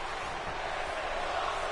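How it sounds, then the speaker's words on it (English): Dense, steady roar of an arena crowd at a wrestling show right after a chokeslam and pin, a continuous wash of cheering and noise with no individual voices standing out, moderately loud throughout. "You hear the crowd losing their mind out there."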